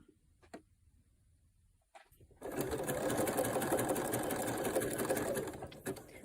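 A sewing machine runs a zigzag stitch along elastic, starting after a few seconds of quiet with small clicks and then a steady close, fast mechanical whir until near the end.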